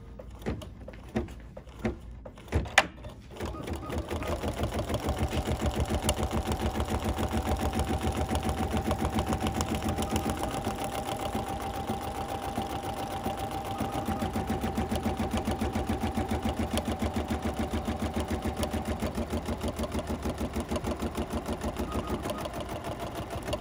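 A sewing machine runs a placement stitch on a quilt table piece, giving a steady, fast mechanical whir that lasts about twenty seconds after a few short clicks and starts.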